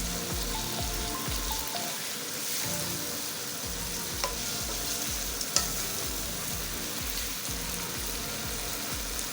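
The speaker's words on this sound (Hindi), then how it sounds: "और बीफ को थोड़ा सा हमने इसमें मिक्स करना है" Beef frying in a pan while being stirred and mixed, a loud continuous sizzle with regular scraping strokes of the spoon, close and with no talking.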